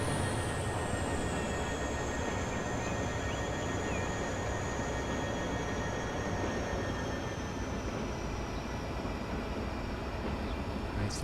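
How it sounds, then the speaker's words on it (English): Train engine in a train simulator game building power as the rear of a long train clears the station, a steady loud rumbling drone with a faint high whine above it, alone without talk. "The power increase as the rear of the train clears the station."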